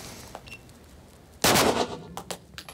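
One sharp, loud pistol shot cracks out after a quiet stretch at a firing range, followed by a few fainter pops from other shooters nearby.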